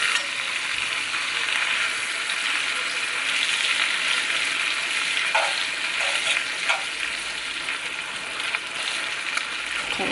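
Ribeye steaks sizzling in a cast iron pan on a stovetop, a loud, steady frying hiss with brief flurries as the meat is shifted, close by and without talk.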